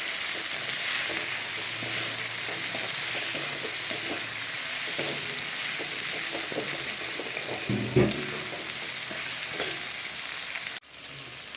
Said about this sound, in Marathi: आता आपण ह्याच्यामध्ये पुलाव टाकून घेऊ पुलाव पण मी धुवून घेतलेला आहे